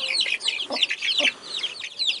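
Chicks and hens being fed watermelon cheep and cluck up close in a busy, overlapping chorus of high chirps and short bursts, with no talk.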